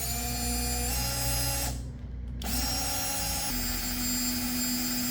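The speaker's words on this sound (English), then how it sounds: "while I drill some pilot holes" A power drill drilling pilot holes in wood whirs with a steady high-pitched motor whine, cutting out briefly in the middle before spinning up again, close and loud.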